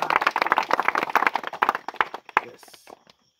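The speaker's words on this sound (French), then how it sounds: "Nous tous, nous applaudissons le Seigneur." Congregation in a church service clapping in praise, a dense burst of claps mixed with voices for about three seconds before stopping.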